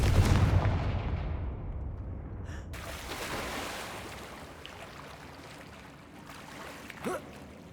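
Confringo fire spells exploding in the video game Hogwarts Legacy, heard as a loud booming blast that rolls off into a long fading rumble, followed by a smaller crack near the end.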